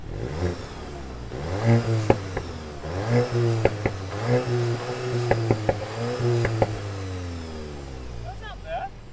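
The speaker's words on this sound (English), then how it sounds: "That's not bad for a 2-liter 4-cylinder. Got some little pops. Yeah, I got some little overrun." A 2022 Volkswagen Golf GTI with its 2-liter four-cylinder revs repeatedly against a soft limiter, the engine rising and falling in swells, with sharp little overrun pops crackling as it drops off, while people talk over it.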